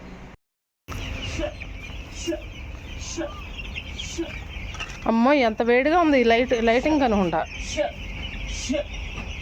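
Chickens on a farm cluck and call in short repeated bursts near the microphone, with a longer rising-and-falling call in the middle, heard under steady talk.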